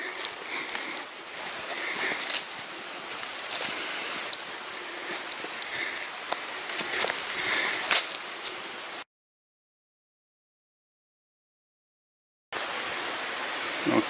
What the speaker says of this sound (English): now coming to another tall built up area with a creek flowing by